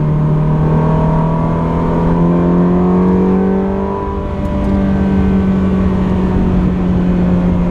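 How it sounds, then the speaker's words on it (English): A 2004 Ferrari 360 Modena with a 3.6-liter V8, six-speed manual and factory racing exhaust accelerating hard: a loud, steady, rising engine howl heard alone, with the pitch climbing through the gears. "As soon as traffic clears here, we'll get an opportunity to listen to that beautiful sound."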